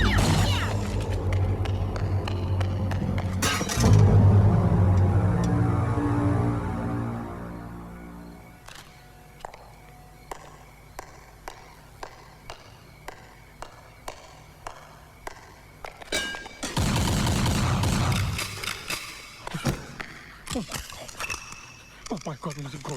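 Rapid bursts of gunfire in a Hindi action film scene: a loud, dense volley for several seconds, then a string of sharp single shots spaced out, and a second heavy burst near the end.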